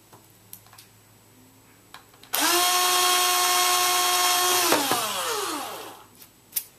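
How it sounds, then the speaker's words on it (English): A power drill bores through acrylic sheet with a steady, loud whine lasting about two and a half seconds, then winds down, framed by a few faint clicks and taps before and after. "And then put your drill into the little hole that you've just created."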